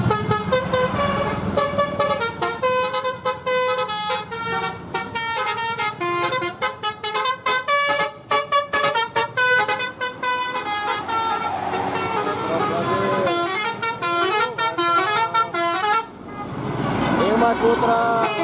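Basuri tour buses leaving the Pangandaran tourist area sound their musical telolet horns, loud melodic tooting phrases repeating almost continuously, with voices heard alongside.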